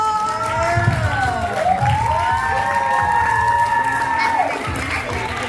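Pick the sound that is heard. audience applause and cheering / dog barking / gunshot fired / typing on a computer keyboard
audience applause and cheering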